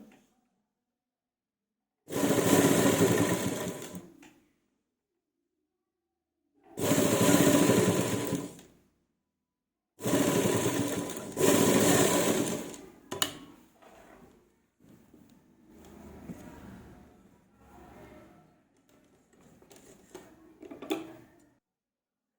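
Sewing machine stitching all the way around a round neckline, heard as three loud, steady bursts of machine running separated by pauses, followed by quieter intermittent handling and shuffling noises.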